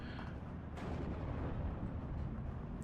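Bombing strike explosions in the WWII strategy game Steel Division 2, heard as a dense, continuous rumbling roar of blasts with a sharper burst near the start, loud and sustained throughout.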